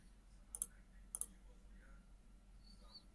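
A computer mouse clicks on a link twice, each a sharp double click, close and crisp over a faint background hum.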